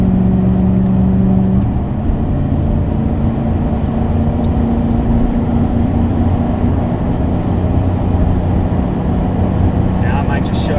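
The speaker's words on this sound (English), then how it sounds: "take in this engine sound in this canyon" A loud, steady Audi A6 C5 manual engine drone with a deep rumble echoing in a canyon, heard from inside the car as it keeps up speed.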